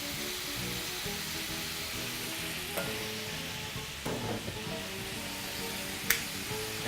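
String beans tossed in a reducing sauce in a pan sizzle steadily, a constant frying hiss with a few sharp utensil clicks and scrapes.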